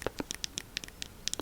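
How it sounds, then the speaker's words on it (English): Several small plastic clicks and scratchy taps from a bottle cap being fiddled with, close and fairly quiet, in an irregular quick rhythm. "This is the sound of the lid,"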